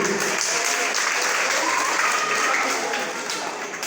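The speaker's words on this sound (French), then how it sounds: "applaudissez-moi" Audience applause at a seminar on the dynamics of success, loud continuous clapping from a roomful of people, steady throughout and tapering slightly at the close.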